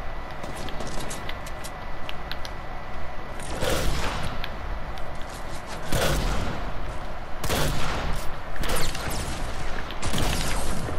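Bursts of gunfire from the Fortnite video game, several loud sharp volleys spaced every couple of seconds over a steady background of game ambience, with no talk over them.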